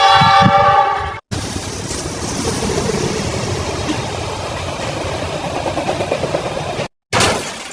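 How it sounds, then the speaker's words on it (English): A passing train in a children's alphabet lesson, heard as a loud, steady rumble and clatter of rail cars lasting several seconds, cut by brief gaps, with a horn-like tonal burst at the start. "T is for train"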